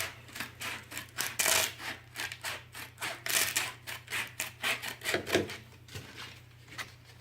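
Abrasive sandpaper strip for a Flatmaster drum sander being cut, a quick series of close crisp snipping and scraping strokes in an uneven rhythm with no speech.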